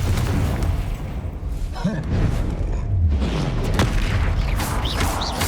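Booming blasts from a Confringo spell in Hogwarts Legacy erupt in quick succession, heavy low-end bursts rolling under and around a loud shouted voice.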